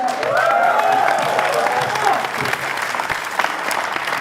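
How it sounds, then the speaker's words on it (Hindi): Loud, steady applause from a comedy show audience, dense clapping with a few cheers and voices under it throughout. "क्या बात है दोस्तों, जोरदार ताली।"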